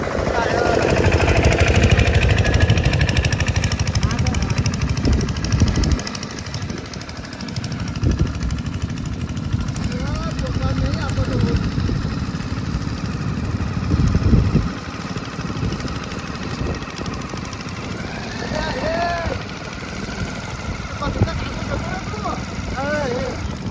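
A motorcycle engine runs steadily nearby, with a rough mid-range rumble throughout, while people talk loudly over it.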